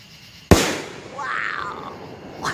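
July 4th fireworks: one sharp, close bang that decays into a rising whistling streak, then another pop just at the end.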